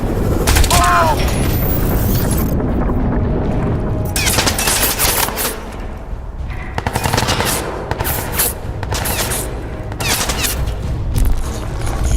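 Gunfire in the Crysis 2 Remastered shooter: loud, close bursts of automatic fire and sharp cracks in irregular clusters, with booming impacts and shouting voices in between.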